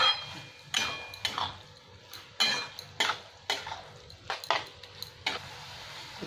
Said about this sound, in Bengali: এটাকে আর 2 মিনিট নেড়ে নেবো,